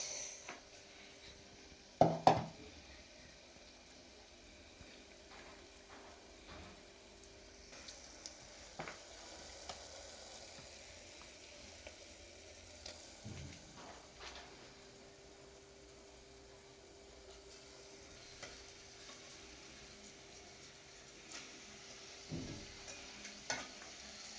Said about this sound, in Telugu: ఇప్పుడు మటన్ వేసుకుందాం